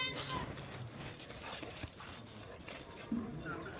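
A dog out on a walk whimpers and whines faintly amid quiet outdoor noise, with a brief higher whine near the end and people talking in the background.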